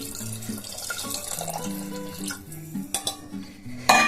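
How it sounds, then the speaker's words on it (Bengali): Hot water is poured into a cooking pot of methi chana (fenugreek and chickpeas), splashing and gurgling up close, followed by a few sharp clinks of metal cookware. "এই গরম জলটা আমি এখানে দিয়ে দেবো"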